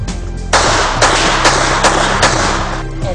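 Several sharp .25 caliber handgun shots ring out close by at an irregular pace, loud cracks in quick succession with a brief echo trailing each one.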